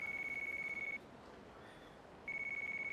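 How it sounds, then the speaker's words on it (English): A phone ringing in the video game Yakuza Kiwami: a clear electronic ring tone in a rapid pulsing burst, a short pause, then the ringing resumes, crisp and alone. "Oh, we got a phone call."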